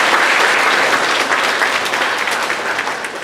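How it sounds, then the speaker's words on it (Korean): Church congregation applauding together in a dense, steady wash of clapping that fills the room and fades slightly toward the end, with no voices on top. "우리 다 같이 박수로 환영합시다."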